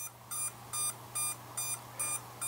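Six evenly spaced short electronic beeps, each about a quarter second, played through the small brushless motors of a TinyLeader 2S micro quadcopter using a D-shot beeper; thin, tinny and quiet over a low steady hum.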